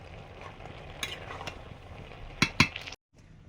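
Fish curry gravy boiling in a kadai, a steady low bubbling and simmer with a few sharp clinks of a utensil against the pan near the end, then a brief silence.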